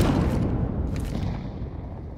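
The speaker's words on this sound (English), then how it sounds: "Grenade out." A grenade explosion in Counter-Strike 2 on the Mirage map: a heavy, close boom with a broad rumble that decays over about two seconds.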